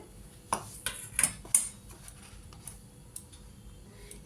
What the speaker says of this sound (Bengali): দইটা ভালো করে ফেটিয়ে নেব লঙ্কার গুঁড়োর সাথে।